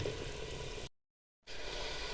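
Hot oil sizzles and crackles steadily as a tempering is added to mustard greens, briefly cutting to silence before the frying sound resumes.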